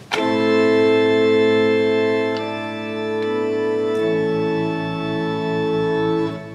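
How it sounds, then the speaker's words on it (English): A full pipe organ chord rings out with several stops blended, rich and sustained, shifting once midway and holding steady to the end. "So I combine few of the sounds to get a proper organ tone."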